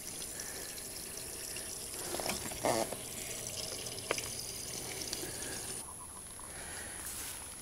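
Water runs steadily from a hose during shock chlorination of a well, a quiet continuous hiss and splash with a few faint knocks and rustles, no voices.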